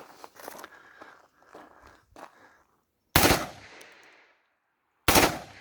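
An Aksa Crossfire .410 shotgun fires two sharp, loud blasts a couple of seconds apart outdoors, each with a short ringing tail, following some handling clatter.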